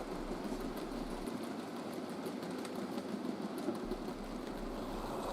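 A modified Bachmann model locomotive hauls a cement block train on a layout, giving a steady low mechanical whir and rattle of running wheels that holds even throughout.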